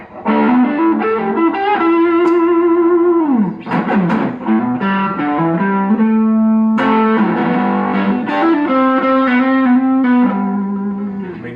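An electric guitar plays sustained distorted notes and chords through a small Fender Blues Junior amp, bathed in pedal reverb, loud and continuous with slides between notes.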